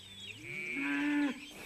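A single drawn-out cow moo rises and holds clearly for over a second before cutting off, close and alone with no talk.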